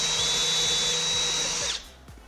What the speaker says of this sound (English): The drilling?